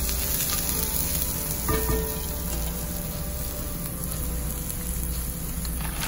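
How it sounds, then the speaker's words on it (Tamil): Chopped onion with turmeric frying in a pan gives a steady, close sizzle and crackle throughout, with a brief soft scrape of stirring near the middle. "ஒரு வெங்காயம் நான் கட் பண்ணி வச்சதையும் சேர்த்து ஃப்ரை பண்ணி போறேன்"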